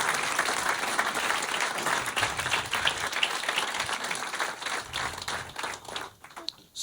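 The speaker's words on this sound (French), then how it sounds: "vous pouvez l'applaudir" A theatre crowd at a stand-up comedy show applauds, steady dense clapping that fills the room for several seconds before thinning out at the end.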